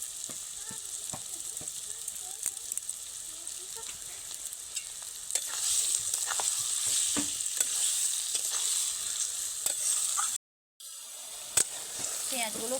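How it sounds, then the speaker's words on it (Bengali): Onion, ginger and garlic frying together in a pan with salt: a steady, bright sizzle close by, with scattered stirring scrapes and a brief dropout near the end, and a voice now and then beneath it. "পেঁয়াজ আদা রসুন সব কিছু একসঙ্গে আবার বেশ লালচে লালচে করে ভাজা ভাজা করে নেব"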